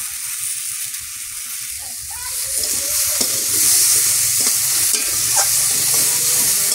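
Food stirred and fried in a pan with onions, salt and turmeric, a bright continuous sizzle that swells midway, with scattered clicks and scraping of the spoon underneath.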